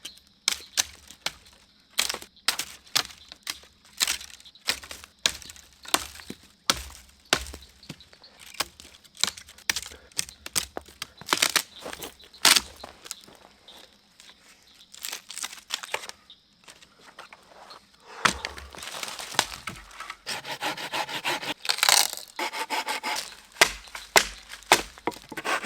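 A big sharpened knife splitting and shaving kindling wood at a wilderness campsite in Florida, a long run of sharp, irregular cracks and snaps with brief pauses between, close by.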